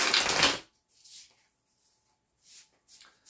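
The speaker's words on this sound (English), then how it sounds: "I just love the sounds this deck makes when it's shuffled" A tarot card deck is shuffled up close, one loud riffling burst at the start, then several quieter brief shuffling rustles with pauses between them.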